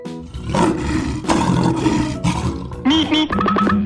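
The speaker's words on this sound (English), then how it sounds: "Lion." A cartoon lion roaring, a loud rough roar repeated in several bursts, followed by short tonal animated sound effects.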